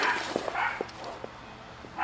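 Neighbor's dogs bark in the distance, giving a few faint, scattered yaps and barks under quiet indoor background noise.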